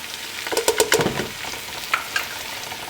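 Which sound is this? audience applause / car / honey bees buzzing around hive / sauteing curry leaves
sauteing curry leaves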